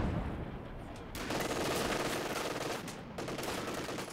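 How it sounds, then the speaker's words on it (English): An MG42 on a pintle mount hammers out bursts of machine-gun fire in Company of Heroes 2, dense rapid rattling with a short gap between bursts, mixed into busy battlefield noise. "you can see the pistol mount machine gun is doing quite a lot of work as well to the side"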